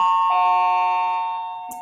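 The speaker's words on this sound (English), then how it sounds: "Ignore the bell." A steady electronic school bell rings with a sustained, bright multi-tone chime that holds loud and even before tapering off, heard alone in a classroom setting.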